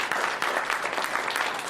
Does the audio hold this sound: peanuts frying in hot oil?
no